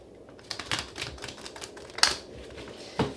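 Tarot cards shuffled by hand, a soft run of papery riffling clicks and flutters with a few sharper snaps near the end, close and fairly quiet.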